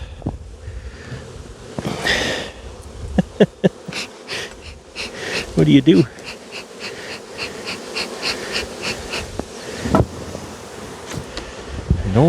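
Honey bees buzz around an open hive during shaking and supering of colonies, a busy hum with close passes of individual bees, broken by bumps of handling and a brief spoken question.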